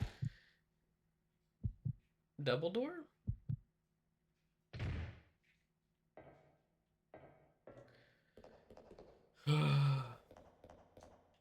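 A slow heartbeat in the Resident Evil Code Veronica video game, with deep double thumps early on. They are soon mixed with sighs, gasps and someone speaking over them.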